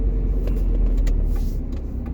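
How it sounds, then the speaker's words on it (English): A car rolls past at night, a steady low rumble of engine and road noise that stays close and even throughout, with no voices. "It's funny when cars drive with the lights off at night."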